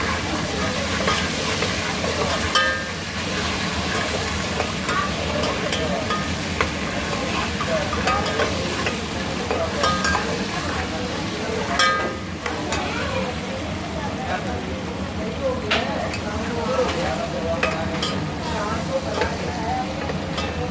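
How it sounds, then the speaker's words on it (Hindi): Ginger garlic paste frying in a pot for mutton qorma makes a continuous, busy sizzle with stirring noises and occasional clicks, holding at a fairly even level throughout. "ये अदरक लहसुन का पेस्ट है, और ये थोड़ा सा फ्राई कर रहे हैं।"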